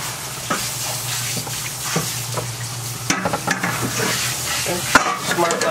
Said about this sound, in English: I'm gonna rinse that down the sink.